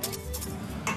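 A whisk clinking against a metal bowl while egg yolk, white wine and melted butter are beaten into a sauce, quick light metallic taps in a steady rhythm, close and fairly loud.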